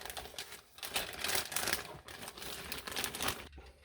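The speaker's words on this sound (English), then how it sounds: "let me take this out of plastic quick" Plastic bag crinkling and rustling as a chromed model kit part is pulled out of its packaging, close and busy with uneven crackles, ending in a brief pause.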